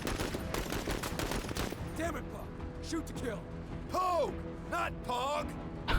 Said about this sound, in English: Let's fire again.